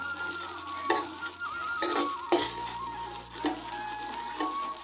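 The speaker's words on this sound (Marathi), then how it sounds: "छान असा तळतळायला लागलाय आपला राजगिरा, मस्त असा फुटायला लागलाय" Amaranth (rajgira) seeds dry-roast on a very low flame, giving off soft, sparse crackles and pops every half second or so. The sounds are faint and sit over a quiet, steady hum.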